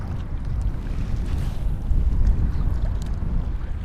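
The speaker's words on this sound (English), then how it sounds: "Man, it is too windy over here." Strong wind buffets the microphone on a lake during a crappie fishing trip, a constant loud low roar with gusts and faint water lapping beneath.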